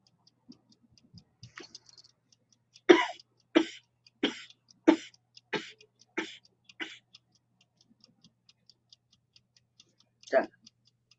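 A series of about seven sharp, forceful kapalbhati breathing exhalations in a steady rhythm, then a pause and one more burst, close and clear with no talk over them.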